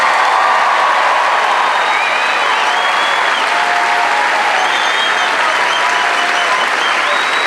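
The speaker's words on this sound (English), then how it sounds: "How about a nice round of applause for all of our honor graduates?" A large crowd applauds Air Force basic training honor graduates at an airman's coin ceremony, a loud, steady wash of clapping that holds evenly throughout with faint cheering mixed in.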